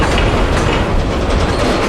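A long freight train made up of Bone Valley rotary flip-top gondolas rolls past close by, a loud continuous rumble of wheels and cars with a faint rhythmic clatter.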